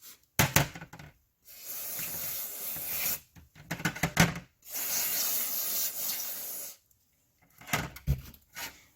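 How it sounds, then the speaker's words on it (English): Compressed air blows off a cleaned Briggs and Stratton carburetor. Several loud, close bursts of hissing air come in long and short blasts separated by brief pauses. "I'm just going to blow it off with some compressed air"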